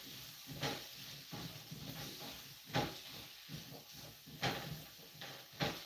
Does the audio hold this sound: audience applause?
no